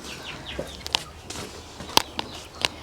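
Chickens cluck and peep in short scattered bursts close by, with a few soft shuffling steps in between.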